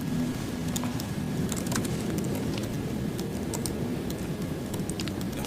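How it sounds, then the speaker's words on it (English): Rapid, steady typing on a computer keyboard: a dense stream of close key clicks over a constant low background hum, with no talking. "I've been typing on a different keyboard for so long that now typing on this keyboard sucks."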